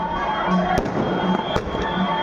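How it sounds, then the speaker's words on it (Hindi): Firecrackers burst over a constant loud din from a nightly street celebration with a band, with a couple of sharper cracks standing out from the dense background roar. "पूरा बैंड बाजा, पूरा पटाखे वटाखे, रोजाना का काम है इन लोगों का"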